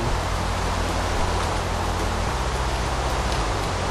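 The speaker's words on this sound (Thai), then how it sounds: "ตอนนี้นะฮะฝนตกอยู่" Steady rain falls in the Minecraft video game, a dense, even hiss of rainfall heard alone at constant loudness.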